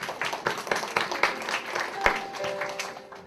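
A church congregation at a Korean university-group worship service claps, with scattered, distinct hand claps rising and then thinning out at moderate loudness.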